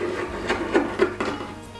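Scissors snip the end off a piece of fabric in a few quick, close cuts, each crisp crunch about a quarter second apart.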